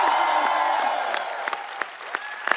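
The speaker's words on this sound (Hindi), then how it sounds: "की जोरदार तालियों के बीच बुलाना चाहूंगा गीता और बबीता फोगाट को।" Studio audience applause on a Hindi comedy talk show, dense and steady at first, then thinning into scattered sharp claps toward the end.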